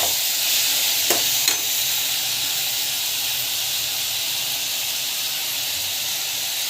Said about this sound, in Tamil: நல்லா வந்து வதங்கட்டும்